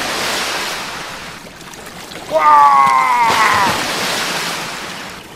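Rushing waterfall water roars steadily and close in a Transformers Rescue Bots toy play scene. A voice briefly exclaims partway through.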